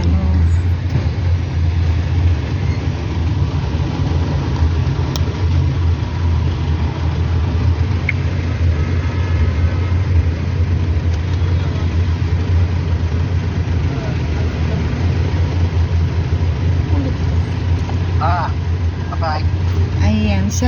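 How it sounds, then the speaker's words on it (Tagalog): Road traffic with car engines idling, a steady low rumble of vehicles that holds throughout, with voices talking over it. "Ayan, traffic po."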